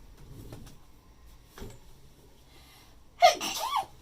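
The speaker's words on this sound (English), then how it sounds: "Bless you. There's that sneeze." A single sharp sneeze bursts out near the end after a few seconds of quiet room noise, close and loud, in a home computer-repair setting.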